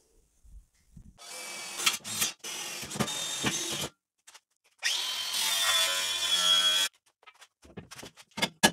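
A power drill bores into the body of a BMW E36 being fitted for fuel tank mounting, in several bursts of whining drilling, one short and one longer, separated by pauses, close and loud with clanks between.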